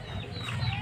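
A chicken clucks close by in a short, busy burst of fowl noise.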